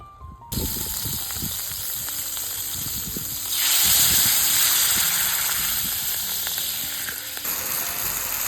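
Mushrooms and chicken sizzle in a pan over an open campsite fire, a steady crackling hiss that swells louder midway and then holds, with no talking.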